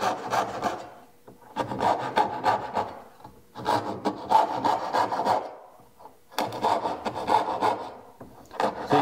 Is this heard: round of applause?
no